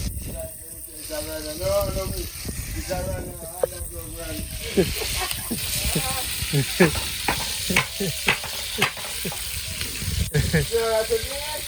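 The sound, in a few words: hammerhead shark pieces frying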